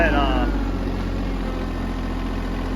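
Delivery vehicle engine idling and rolling past on a storm-damaged road after Hurricane Helene, a steady low rumble throughout with a brief voice at the start.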